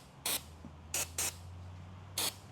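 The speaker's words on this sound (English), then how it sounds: "spray that white lithium on there." White lithium grease sprayed onto the die of a tube bender in short aerosol bursts: four sharp hissing spurts, two of them close together, over a low steady hum.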